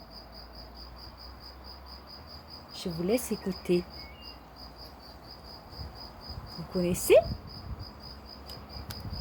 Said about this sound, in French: C'est le grillon.